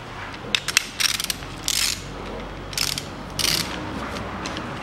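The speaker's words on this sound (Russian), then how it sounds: "Откручиваю шатуны, вытаскиваю." A hand ratchet clicks in short bursts while loosening the connecting rod bolts of a 2003 Toyota Caldina engine, close up with pauses between each series of clicks.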